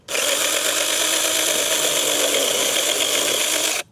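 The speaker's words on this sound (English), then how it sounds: "we're going to see if we can't cut this with the chainsaw" A chainsaw runs at a steady, loud, high-revving roar for nearly four seconds, cutting continuously through tree roots with no pauses.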